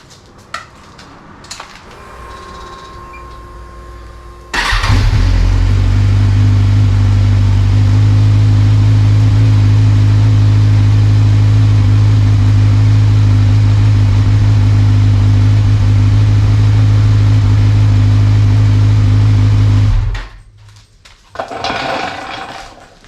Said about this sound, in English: I'll start the bike up